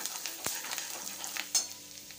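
Spices, curry leaves and coriander are stirred in a hot frying pan for spiced aluwadi, a bright steady sizzle with quick scraping strokes and a couple of sharp taps of the spoon.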